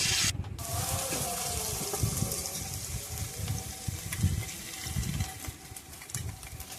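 Whole cumin, green chili and bay leaf frying in hot oil as a tempering for begun posto: a steady, close crackling sizzle that runs almost without a break, with a very short dip near the start.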